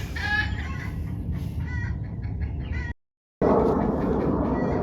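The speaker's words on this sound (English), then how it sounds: "that hen is still cackling" A hen cackles loudly and continuously, a repeated excited clucking close by, with a brief gap of silence partway through.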